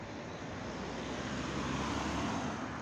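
A car drives past on a Moscow street in Yasenevo, a steady broadband roadway whoosh that holds at the same level throughout, with no voices over it.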